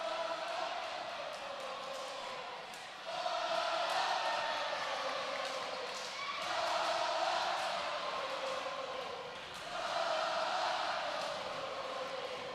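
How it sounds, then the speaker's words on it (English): Rhythmic crowd cheering from student sections at a high school volleyball match between West Liberty and West Branch, rising and falling in repeated chant-like waves across a gym, steady and moderately distant. "Both student sections are doing that cheer"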